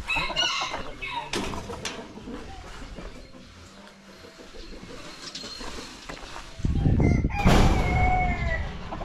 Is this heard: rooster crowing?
yes